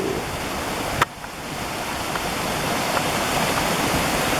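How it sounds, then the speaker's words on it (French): A mountain waterfall pours down steadily in a continuous broadband rush of water, loud and close, with a single sharp knock near the start. "l'eau elle part de haut quand même, hein. Elle descend toute la montagne"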